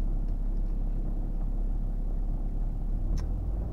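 A Stage 2 tuned BMW runs at low speed with a steady, muffled engine rumble heard from inside the cabin, without talk.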